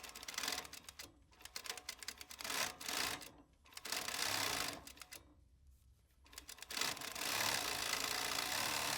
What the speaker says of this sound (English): Running 6 needles, that's every other needle on this machine.